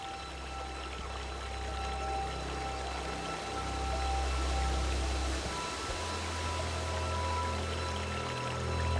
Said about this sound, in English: While the sound of the waterfall seems nearby, it is actually rebounding off the hard rock walls and echoing around the mountain.